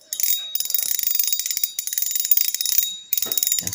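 Rapid dry, shrill clicking from the drag ratchet of a Getsu Zeus II XT fishing reel runs in three sustained bursts separated by short gaps, close and loud.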